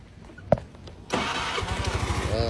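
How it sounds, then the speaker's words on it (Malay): A 2013 Honda Spacy 110 scooter engine cranks and catches after a faint click, then settles into a steady, close idle with a low rumble. "jom kita dengar dia punya enjin."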